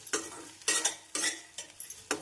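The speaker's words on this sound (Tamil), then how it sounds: "இஞ்சி பூண்டு விழுது சேர்த்து நன்றாக வதக்கிய பின் நறுக்கிய பச்சை மிளகாய் சேர்த்து விடலாம்." Ginger garlic paste and chopped green chillies being sautéed in a pan for cauliflower masala, with a spoon stirring and scraping in four or five distinct strokes over a soft sizzle, close and clear with no talking.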